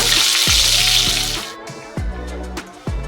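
Curry leaves and dried red chillies hit hot oil for a curd rice tempering, giving a loud, dense sizzle that fades after about a second and a half, followed by scattered clinks and dull knocks up close.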